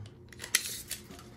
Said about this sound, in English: let's go ahead and pull out the old measuring tape.